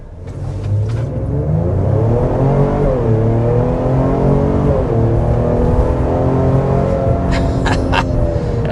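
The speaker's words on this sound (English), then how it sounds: "start with a hard acceleration to show you what that V6 performance is like" A 2026 Ford Explorer Tremor's V6 engine under hard acceleration, its note climbing and shifting through the gears, steady and loud from start to finish with no voices.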